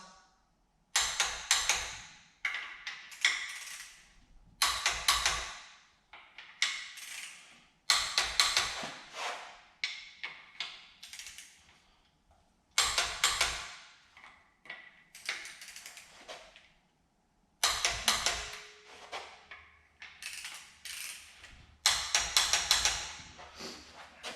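Bolts being torqued on the extension housing of a 4L60 automatic transmission: repeated bursts of ratcheting clicks and metallic taps in short groups with pauses between them, close and fairly clear, no talking.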